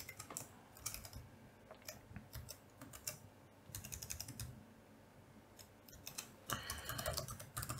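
Rapid keystrokes on a computer keyboard while code is entered, coming in uneven bursts of clicks and clacks with short pauses between them, close and fairly quiet, with no talking.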